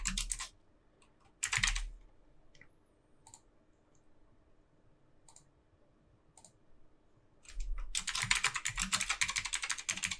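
Bursts of computer keyboard typing, close and crisp, come in a short flurry near the start, a brief second burst, then a long sustained run of rapid keystrokes at the end, with quiet pauses between.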